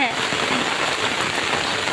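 Steady heavy rain pours down, a dense hiss of drops on surfaces throughout, with a voice talking faintly underneath.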